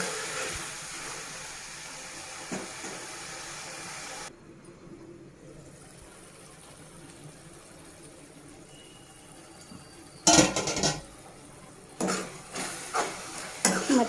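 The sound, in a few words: stirring tomato curry in a pan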